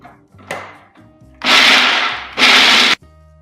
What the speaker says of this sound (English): I'm just going to blend the nuts till they're fine.